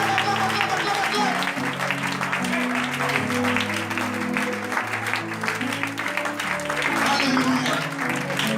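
A church congregation applauds in a dense, sustained clatter of clapping, heard under a preacher's rhythmic chanted voice and tonal music for the whole stretch.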